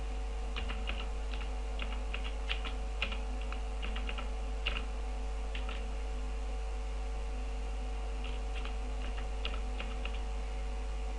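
Typing on a computer keyboard in irregular bursts of close, light key clicks over a steady background hum, with a pause in the middle.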